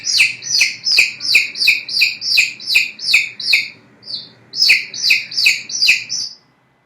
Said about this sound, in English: That's the chick sound.